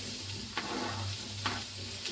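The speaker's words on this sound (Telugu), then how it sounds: "2 టేబుల్ స్పూన్ ఆఫ్ ఆయిల్ వేసుకోవాలి. ఫస్ట్ మనం చిల్లీస్ వేసుకోవాలన్నమాట. నెక్స్ట్ మనం ఆనియన్స్ వేసుకోవాలి." Chillies and onions frying in two tablespoons of oil for samosa filling, a close, steady sizzle with a few louder crackles and bursts of stirring, no talking.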